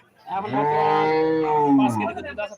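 One long, loud dairy cow moo at a cattle market, close by and sustained for nearly two seconds, then a brief rustle.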